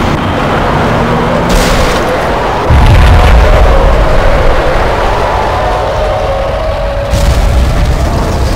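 A building explodes in the Max Payne video game, a heavy boom that surges into a loud, rumbling blast with crackling debris, preceded by a brief burst of noise.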